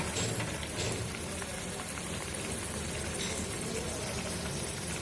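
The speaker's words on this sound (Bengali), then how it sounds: "জলটা ভালো করে ফুটে গিয়েছে, এবার ধোকাগুলা দিয়ে দেব।" Pot of water at a rolling boil with dhoka lentil cakes simmering in it, a steady close bubbling hiss with no pauses or talking.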